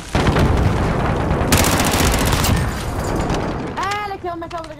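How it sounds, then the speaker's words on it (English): A grenade blast in a shooter video game, a loud booming explosion with rumbling gunfire and chaotic battle noise nearby, followed by a brief electronic tone sweep near the end, with no talking. "I killed myself with a grenade because apparently bounced back at me"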